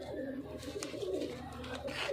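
Pigeons cooing nearby, a continuous low, throaty murmur of overlapping coos with no pauses.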